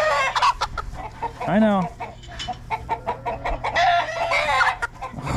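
Frightened chicken squawking and clucking up close while being freed by hand on a dairy farm, a rising crowing-like call in the middle, with someone speaking softly over it.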